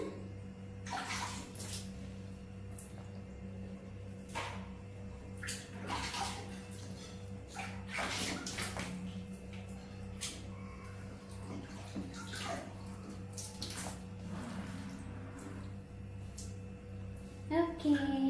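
Water running into a bath for a baby monkey, a steady rushing pour that continues throughout with bursts of splashing, while people talk softly over it.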